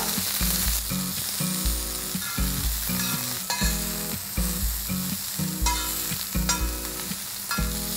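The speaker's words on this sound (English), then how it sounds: "We have to saute the onions till they are brown in color." Three sliced onions sautéing in hot oil, a loud constant sizzle broken by rhythmic stirring scrapes every second or so, close up, with tonal background music and no talking.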